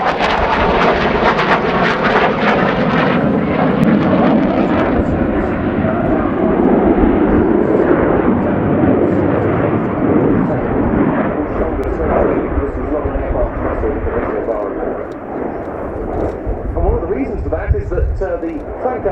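Ukrainian Air Force Su-27P1M Flanker fighter jet flying a display at an air show, its loud roaring engine noise filling the scene and shifting in tone as it passes, with a voice talking over it.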